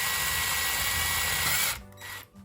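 A power drill whirs steadily as it bores slowly through leather into wood, a continuous close-up buzz that cuts off near the end, followed by a couple of short lower-pitched bursts.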